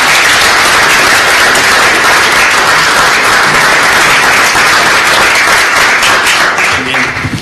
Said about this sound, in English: let's give them a round of applause for it.